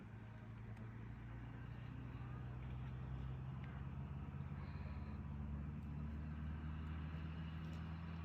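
A car engine rumbles steadily nearby for the whole stretch at an outdoor film shoot, a constant low drone without a clear rise or fall.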